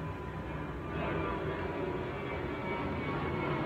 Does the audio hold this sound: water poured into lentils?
no